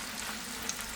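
Chicken gizzards and hearts fry in a pan for Georgian kuchmachi, giving a steady close hiss of sizzling fat with a few small pops.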